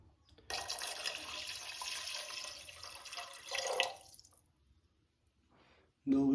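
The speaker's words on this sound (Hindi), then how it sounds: "और इसमें पानी डालेंगे थोड़ा।" Water streams into a pot of chickpeas for about four seconds, a close, hissing pour that fades to near silence, followed by a brief clatter at the end.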